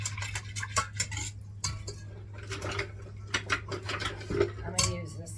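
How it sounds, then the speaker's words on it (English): A utensil scrapes and clinks against a bowl as sugar and salt are stirred into a sourdough French bread mixture, in irregular strokes over a steady low hum. "I'm going to add my sugar, my salt, and I'm going to give that a little stir"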